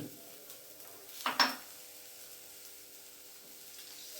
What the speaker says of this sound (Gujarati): આ બાફેલા બટેકા બરાબર મિક્સ કરી લઈએ